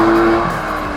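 A Porsche GT3 RS with a 4.0-litre engine roars loudly and close in a brief one-second burst, a steady high-revving tone that eases slightly toward the end.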